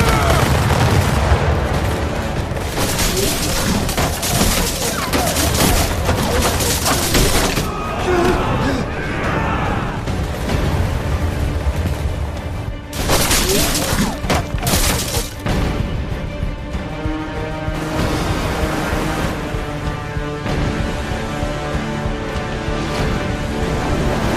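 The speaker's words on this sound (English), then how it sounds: "Prepare to fire! Set your aim! Fire!" A volley of gunfire on the water in a historical naval battle, heavy booming blasts and crashes in a dense, continuous barrage. Shouted voices are partly buried under the roar.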